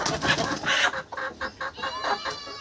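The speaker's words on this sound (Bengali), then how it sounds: "এই মুরগিগুলো একদম নতুন মুরগি" Native desi hens, about four months old, cluck nearby in a series of short, uneven bursts, with a few calls overlapping and soft rustling between them.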